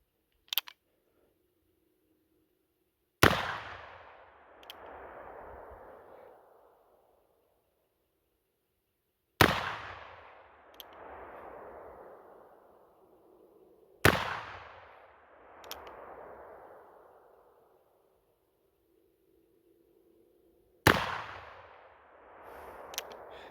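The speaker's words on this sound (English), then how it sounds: "let's put our last few rounds on this target right here." Four loud, sharp shots from a Remington 1858 New Model Army .44 caliber revolver loaded with real black powder at an outdoor range, spaced several seconds apart, each followed by a long fading rumble.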